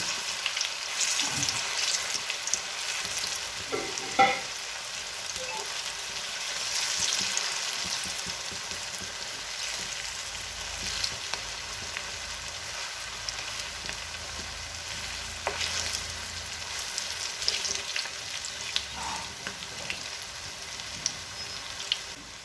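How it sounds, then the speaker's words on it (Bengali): Green jackfruit koftas deep frying in oil give a steady, broad sizzle that runs throughout, with occasional soft pops and stirring clinks standing out against the continuous hiss. "মিডিয়াম আছে কোপ্তাগুলো ভালো করে ভেজে নিতে হবে।"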